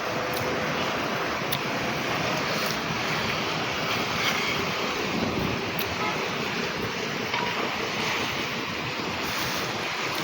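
An oil tanker under way at sea gives a steady broadband wash of engine, wind and water noise, with waves and wind buffeting the microphone continuously and no talk.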